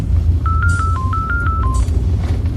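A short burst of phone keypad tones, about eight quick beeps in a row, plays over a low steady background hum.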